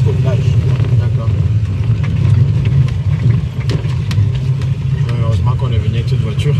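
A car drives along a lagoon road toward a village in Côte d'Ivoire, its engine a steady low rumble with road noise throughout while people talk over it.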